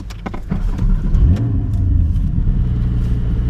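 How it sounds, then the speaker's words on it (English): A Porsche GT4 sports car engine revs nearby, the pitch rising in a sweep and then settling into a steady throaty idle rumble. "Chris is going to take my GT4 out for a spin"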